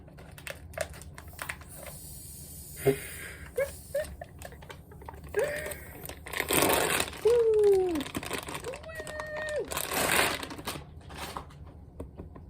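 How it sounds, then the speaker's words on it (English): A taped, heavily folded paper bag being worked open by hand, with scattered crinkles and crumples, a few sharp tears and rustles coming in short bursts near the microphone, interrupted by brief thuds and a short squeaky sound. "a paper bag, taped closed, folded down a lot. How the hell do I open this?"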